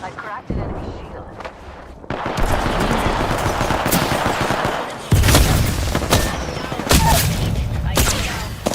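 Shooter game gunfire crackles in rapid automatic bursts and sharp single shots, loud and close, with short lulls between volleys amid battle noise and occasional spoken callouts.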